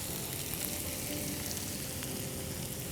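Potatoes with green chilies fry in a pan for a Parsi-style potato and egg dish, giving off a steady, dense, close sizzle that holds even throughout, with no voices.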